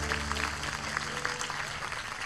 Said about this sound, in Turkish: Orkestra için alkışlar.